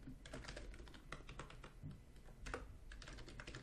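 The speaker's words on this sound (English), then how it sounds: "type in movement speed in place of all these 5s" Fingers type rapidly on a computer keyboard, a quiet, steady patter of key clicks throughout a short stretch, close and with no talk.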